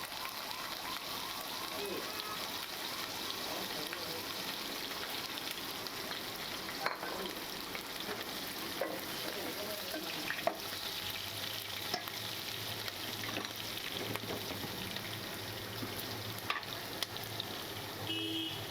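Onion and garlic frying in a pan for a home-style Rongmei fish dish, giving a steady, close sizzle with occasional stirring scrapes throughout, no talk over it.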